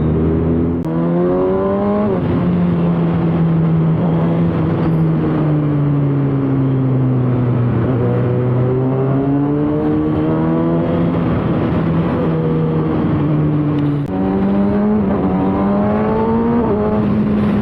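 Morning road traffic in Bangalore heard from a ZX6R motorcycle ride: a close, loud engine drone rises and falls in pitch with gear changes and throttle, over a continuous rumble of surrounding vehicles.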